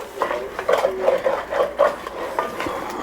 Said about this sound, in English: Scrape up the bottom.